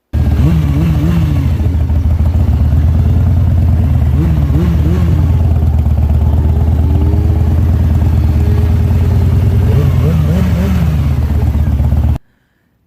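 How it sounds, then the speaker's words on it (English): A motorcycle engine idles with a steady, chugging rumble and is briefly revved several times at a rolling stop, each rev a short rising burst, before cutting off abruptly near the end; a voice speaks over parts of it. "add in revving your motor at your rolling stop"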